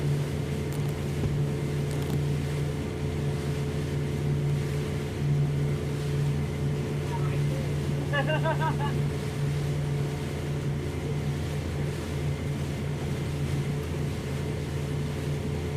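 A motorboat engine drones steadily and loudly throughout, a constant low hum with water rushing beneath it.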